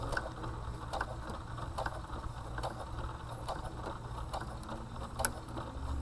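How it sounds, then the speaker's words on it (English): Sewing machine stitching forward with the presser foot held level by a leveling button, a steady fast mechanical patter with faint periodic ticks at close range. "as I start to sew forward, that black button stays pushed in, holding my foot level"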